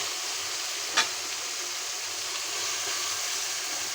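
Chopped potatoes and spice masala frying in a pan for kachki fish chorchori, a steady close sizzle with one brief stirring clatter near the start.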